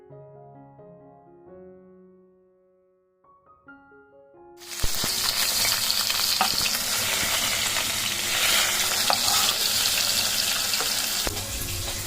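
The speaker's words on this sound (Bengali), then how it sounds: "একটু নাড়িয়ে নেড়ে দিচ্ছি যাতে কড়াই আটকে না যায়। হালকা ভাজবো" Bhetki fish fries in a wok, a loud, dense sizzle that starts abruptly after a quiet melodic intro and then holds steady with occasional stirring clicks.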